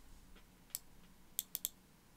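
Sparse keystrokes on a computer keyboard, a few isolated clicks followed by a quick cluster of three sharp taps, close and fairly quiet against a faint room background.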